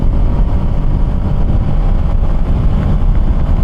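A Triumph Speed 400 motorcycle engine running at speed in fifth gear, a loud steady low drone mixed with wind rush, continuous and unbroken with no voices.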